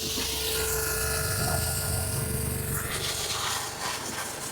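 A pressure washer sprays a car at home: a loud, steady motor drone under a broad rushing spray that shifts in tone partway through, continuing without pause.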